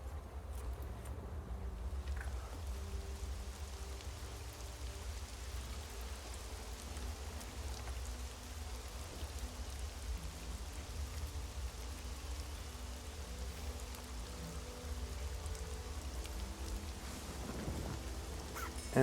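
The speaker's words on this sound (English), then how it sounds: "Favorable with precipitation, so there's some rain." Steady rain patter from an animated rain weather overlay in a tabletop game session, a continuous hiss with a low rumble underneath, lasting the whole stretch with no talking.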